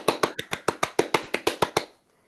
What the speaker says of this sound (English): a round of applause, please, to Tomasz